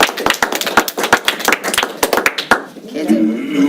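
A small group at a board meeting gives a round of applause, a loose run of sharp, close hand claps that thins out after a couple of seconds as talk resumes.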